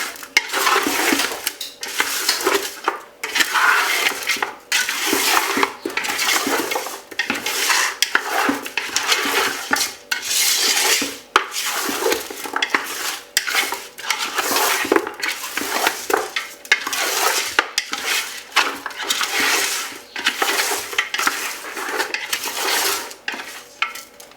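Wooden spoon stirring seasoned meat in a pot, a steady run of scraping and clacking strokes against the pot sides, close and continuous, with no talk.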